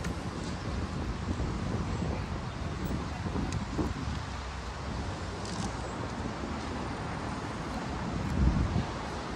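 Wind blowing outdoors at a memorial arch, a steady broadband rush buffeting the microphone with low rumble throughout and a brief stronger gust near the end.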